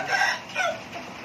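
A Mon-breed fighting rooster, about a year old and roughly 3.5 kg, gives a short, strained crow, close and fairly loud, with no talking.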